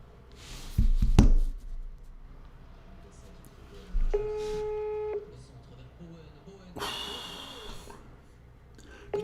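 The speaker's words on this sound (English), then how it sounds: "Let's get him on the phone." An outgoing phone call rings once with a steady electronic ringback tone lasting about a second, surrounded by close breathing, handling bumps and a burst of noise.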